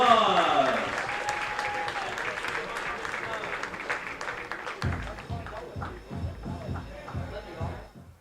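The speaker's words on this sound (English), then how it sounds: "Let's show her some love by giving her a big round of applause" Crowd applause at Dwyer Stadium, a baseball ballpark hosting the Batavia Muckdogs and Niagara Falls Americans, with steady clapping and murmur throughout and a booming public-address voice over the second half.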